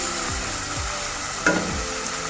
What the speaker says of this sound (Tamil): நல்லா வெங்காயமும் நல்லா அதோட வதங்கணும்.